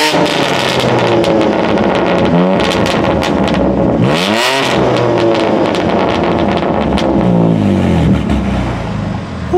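Modified 2021 BMW M3 G80 revving hard outdoors, a loud, dense engine roar with sharp rising and falling sweeps and crackles, heavy wind buffeting on the microphone throughout, close and continuous.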